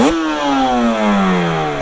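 A Suzuki RG500 motorcycle with Nikon exhausts revs close by, its pitch rising sharply and then easing down in a loud, raspy two-stroke wail.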